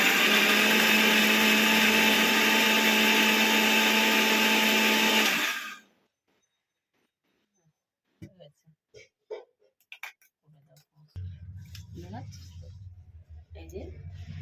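A kitchen blender grinds a paste in a loud, dense, continuous whir for several seconds, then stops abruptly; afterward come scattered clinks and a low rumble.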